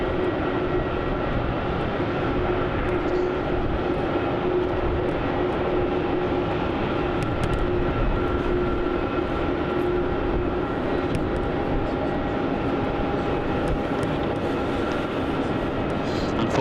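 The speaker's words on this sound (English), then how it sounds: "There's reverse thrusters there." An airliner's reverse thrust roars continuously after landing at Melbourne Airport, a loud, broad, steady engine rumble with faint voices over it.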